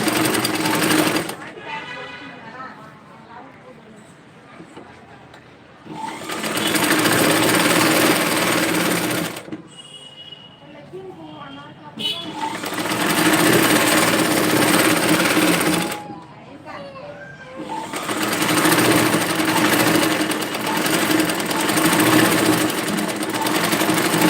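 A sewing machine stitches a dress made of jimmy choo fabric in three long bursts of loud, steady motor whirring, separated by short pauses where someone talks quietly.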